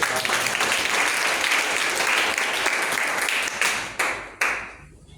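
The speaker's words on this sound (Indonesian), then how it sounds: "Tepuk tangan buat Tuhan" Loud, dense applause from a large church congregation at a Sunday service fills the space, then trails off into a few scattered final claps.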